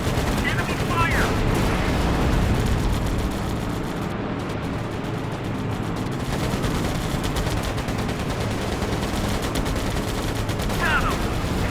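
Enemy gunfire in the WWII Pacific air combat game Air Conflicts Pacific Carriers, loud dense machine-gun bursts rattling continuously for the whole stretch alongside engine roar.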